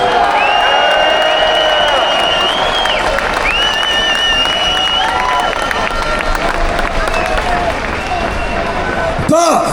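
A large crowd at an outdoor free speech rally cheers, whoops and applauds loudly and continuously, with shouts and whistles in a dense wall of noise and a brief sharp rise near the end.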